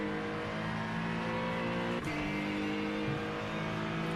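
Race car engine in iRacing GT3 racing at Fuji, a steady sustained drone at partial throttle with a brief shift blip midway, loud and continuous with no talking.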